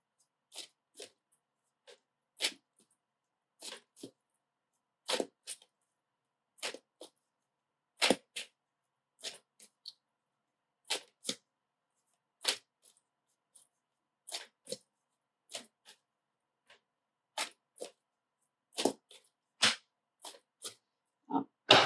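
Tarot cards being shuffled by hand: scattered short, crisp snaps and flutters come in irregular bursts separated by silent gaps, close and clear with nothing else audible.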